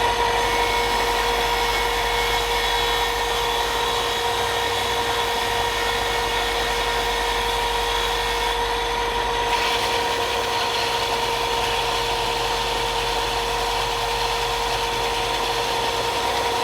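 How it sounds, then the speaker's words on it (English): A rivercane arrow shaft is barrel tapered with a power tool: a steady, loud motor whine with sustained tonal bands and a constant grinding, sanding rub that runs unbroken throughout, with no talk. "I'm going to barrel taper this down and then taper this"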